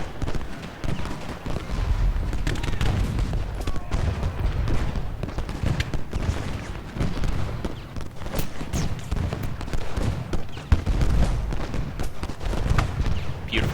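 Battle din from Ultimate General Gettysburg: dense, continuous rolls of rifle volleys and booming artillery and canister fire, loud and unbroken throughout, with scattered sharper reports standing out.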